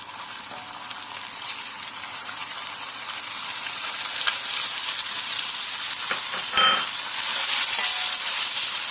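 Chicken pieces frying in hot oil in a pan while being stirred, a steady loud sizzle running throughout with a brief scrape of the spoon near the end.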